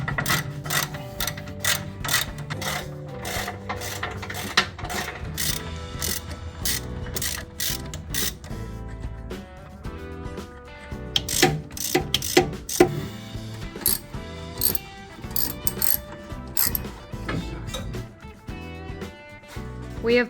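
Spring compressors are ratcheted tight on Jeep TJ coil springs for a 2.5-inch lift. Continuous quick, close clicking of a ratchet runs throughout at moderate volume.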